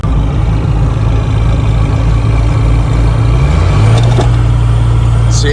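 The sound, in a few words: Ford King Ranch 5.9L Cummins truck engine with turbo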